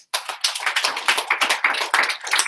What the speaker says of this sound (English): Can we give Michael a round of applause?